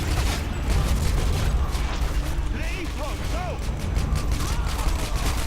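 Gunfire in Call of Duty: Modern Warfare 2 crackles in loud bursts amid mechanical clanks and whistling effects, a dense battlefield din throughout.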